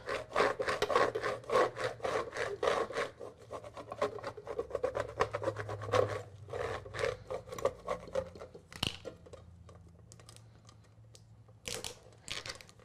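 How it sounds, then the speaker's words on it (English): Transfer tape being burnished onto a glass shadow box, heard as a quick run of firm rubbing strokes, dense at first and then sparser and quieter, close up with no talk. "we're gonna go ahead and apply it to our shadow box. And I'm just gonna burnish that down."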